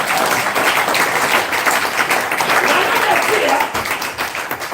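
Church congregation applauding and acclaiming during a service: a dense, sustained wash of clapping mixed with voices, steady throughout and slightly easing toward the end.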